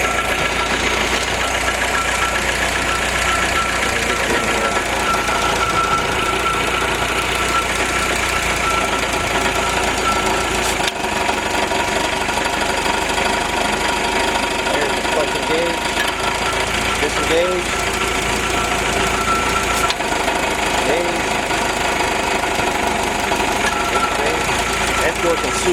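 A Willys F-head engine with a Weber carburetor and a Rockford PTO idles after start-up, a steady, loud knocking rumble that runs continuously, with a couple of brief sharp clicks along the way.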